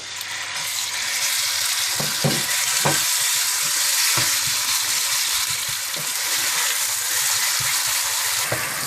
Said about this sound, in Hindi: इसमें आप चिकन डाल लें और इसको हल्का सा भून लें।